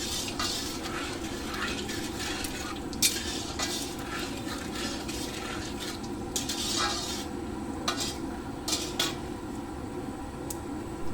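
Whole spices, cumin, bay leaf, dried red chilli and whole garam masala, sizzle steadily in hot oil in a kadai while a metal spatula stirs and scrapes, close up, with no talking.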